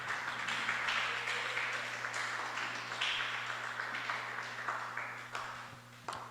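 A church congregation claps in praise, a fairly faint, uneven patter of hands that rises and falls in bursts over a low steady hum.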